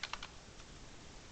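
Computer keyboard typing while software is launched on a desktop: a quick burst of about three crisp clicking keystrokes near the start, fairly close, then fading into low background hiss.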